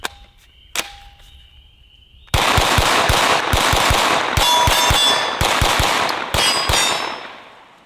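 Rapid gunshots from a Beretta CX4 Storm 9mm pistol caliber carbine ring out loud and close at an outdoor range, firing in a fast irregular string after a few softer clinks, with sharp metallic pings between shots.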